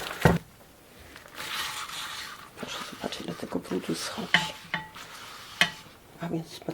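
A frying pan is scrubbed clean without chemicals, with bursts of scraping and scrubbing, some sizzle-like hiss and occasional metallic knocks, uneven and close, while a person talks throughout.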